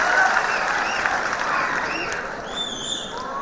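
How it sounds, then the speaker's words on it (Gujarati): Applause from an audience welcoming a doctor to the stage at an expert talk session: a sustained, dense wash of clapping that stays steady, then thins slightly toward the end, with no talk over it. "ડોક્ટર મહેશભાઈ ચૌહાણ જોરદાર તાળીઓના ગડગડાટથી સાહેબને આવકારો"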